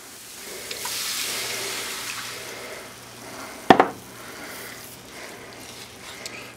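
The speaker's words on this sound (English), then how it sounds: "And a cup of water." Water poured from a cup into a pan holding brown gravy mix on a home stove, a soft splashing pour followed by a sharp clink and brief rattle of the pan, then quiet simmering.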